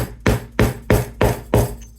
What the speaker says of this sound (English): And then I'm going to use my punch. Yep. And my rubber mallet.